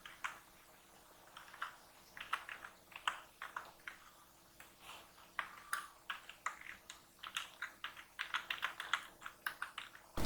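Quick, light clicks of a computer keyboard as Python code is typed, coming in irregular bursts that grow denser toward the end, close and fairly quiet with no talking.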